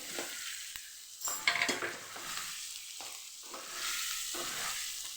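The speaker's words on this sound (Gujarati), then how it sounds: "મસાલો જે તૈયાર કરેલો એ પણ ઉમેરી દઈશું અને બટેકાને પણ ઉમેરી દઈશું" Spice mix and potato pieces tip into a hot frying pan for farali sukibhaji, then a spoon stirs them through steady sizzling oil in several scraping passes, close and alone.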